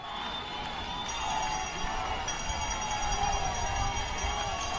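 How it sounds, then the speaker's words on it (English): A crowd roars and cheers steadily at a rowing championship race, a broad sustained wash of voices and noise, fairly loud and continuous with faint tonal whistles above it. "The crowd really brings the noise now."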